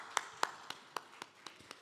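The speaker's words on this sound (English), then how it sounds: "Please, can we give him a round of applause, please?" Audience applause after a speaker at a gender and inclusion summit: seven sharp claps at a slow, evenly spaced rhythm, somewhat distant, with no talk over them.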